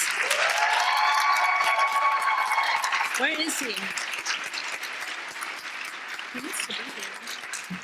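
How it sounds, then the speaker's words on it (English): Audience at an immigration symposium applauding loudly and steadily, the clapping fading gradually over several seconds while someone speaks briefly over it. "please have a round of applause"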